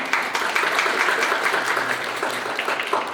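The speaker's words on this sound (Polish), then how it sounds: "Brawa." Audience applause at the opening of an international poster exhibition in Tarnów, steady dense clapping from a nearby crowd throughout, with no voices over it.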